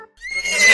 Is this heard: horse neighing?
yes